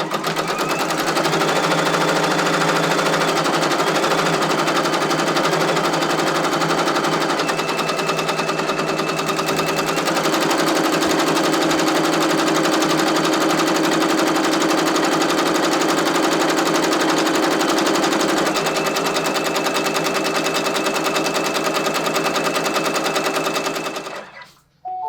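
An embroidery sewing machine stitches a name onto an apron with a loud, rapid, continuous mechanical chatter that changes pitch slightly now and then and stops abruptly at the end.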